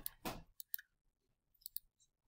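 Keys pressed on a graphing calculator, a handful of faint, sharp plastic clicks in an irregular rhythm, with quiet gaps between taps.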